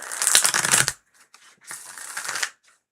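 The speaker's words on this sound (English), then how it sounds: "Ooh, that was a good shuffle." Tarot cards being shuffled by hand: a bright, crisp riffle lasting about a second, a brief pause with a few soft card taps, then a second longer riffle, close and clear with no talking.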